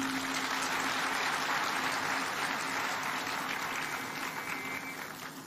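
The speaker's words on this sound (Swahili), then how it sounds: "Tafadhali huyu muungwana tumpigie makofi jameni." A crowd at a Kenyan public event applauds a gentleman in a sustained, dense wash of clapping heard from a distance, holding steady before slowly fading toward the end.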